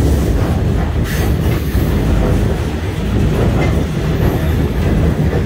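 A passenger train rolling on rails through a city, its steady wheel rumble and rhythmic clickety-clack loud and close throughout, with no speech.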